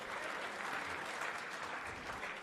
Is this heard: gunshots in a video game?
no